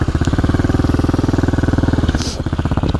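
A motorcycle engine thrums close up while being ridden, with a fast, even firing pulse and a strong low rumble. A brief higher whoosh cuts in near the end.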